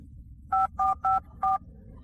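Four short touch-tone beeps in quick succession, clear and evenly spaced, over a faint low hum.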